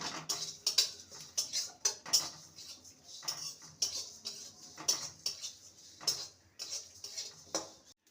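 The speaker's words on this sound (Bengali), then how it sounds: "সর্ষেটা চরবট চরবট করছে" Mustard seeds crackling while dry roasting with coriander seeds in a pan: quiet, irregular little pops and ticks, close by, scattered throughout.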